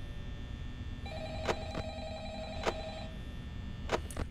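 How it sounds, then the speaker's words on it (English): A telephone in the Five Nights at Freddy's video game rings in a repeating electronic trill, a steady tone with a few sharp clicks over a constant low mechanical hum. "we haven't listened to this phone call yet, so let's go ahead and do that right now"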